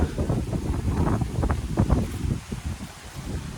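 Strong wind buffets the microphone outdoors at an open land plot in Navatkuli, Jaffna, a rough, gusty low rumble that rises and falls continuously with no clear speech.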